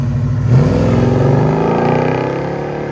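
A 1971 Buick Riviera with a 455 V8, headers and a Borla Pro-XS exhaust revs up close and loud, its deep burbling note climbing steadily in pitch as it accelerates for about three seconds, with no talking.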